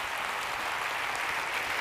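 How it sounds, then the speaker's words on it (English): A conference keynote audience claps for the lighting crew in a dense, continuous wash of applause. "So give them a round of applause."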